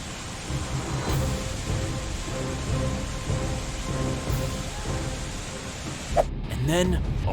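Heavy rain pours down steadily during a thunderstorm on a hiking trail at Mount Rainier, with rolling thunder rumbles underneath, ahead of a flash flood.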